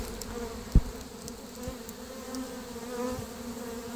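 Honeybees hum in a steady, soft drone during a hive removal from a mobile home in Davenport, Florida, with a single sharp tap early on.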